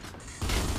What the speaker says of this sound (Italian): Io gli sparo di tutto!